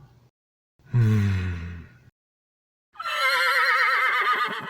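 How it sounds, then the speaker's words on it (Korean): A low breathy snort is followed after a pause by a loud, quavering horse whinny that carries on to the end. "이때 밖에서 말 울음소리가 들리고"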